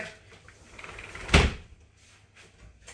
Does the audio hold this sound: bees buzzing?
no